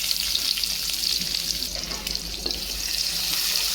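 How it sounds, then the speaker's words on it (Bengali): Chopped garlic and onions frying in a pan, giving a steady close hiss and crackle of hot oil with faint stirring movements and no voices. "দেন পেঁয়াজগুলো আমি একটু বেজে নিব"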